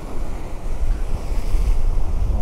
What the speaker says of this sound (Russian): Вот такая там волна бьет об них.